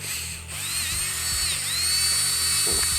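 Graviergerät GG12 handheld electric engraving tool carving into a ceramic surface, a continuous high-pitched whine with grinding scratches as the bit bites and shifts, steady and close for a few seconds.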